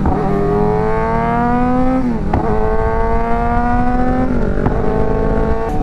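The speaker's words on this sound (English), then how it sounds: "you hear all that excessive backfiring, man?" A modified Suzuki GSX-R 600 motorcycle with an aftermarket mid pipe, air filter and tune, its engine droning steadily and swelling in pitch, with a couple of sharp exhaust pops cutting through.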